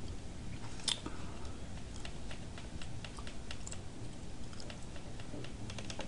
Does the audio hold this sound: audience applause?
no